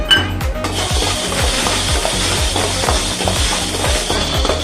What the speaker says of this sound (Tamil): நம்ம இப்போ நான் வந்து பாசி பயிரை நான் போட்டு பண்ணுறேன் பாருங்கள்.